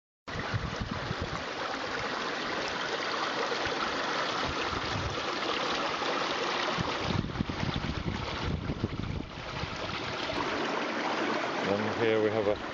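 Water of the River Roeburn rushes and gurgles down an eroding gully in a continuous broadband flow, mixed with wind noise on the microphone, steady throughout with a brief voice near the end.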